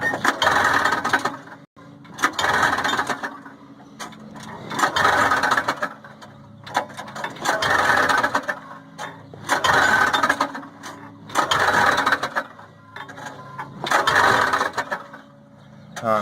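Moped engine being pull-started without catching, about seven rhythmic rasping pulls of the starter cord, each a surge of whirring that dies away, close by.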